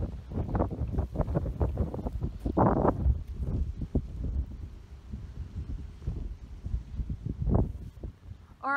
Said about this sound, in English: Sorry, it's got windy all of a sudden.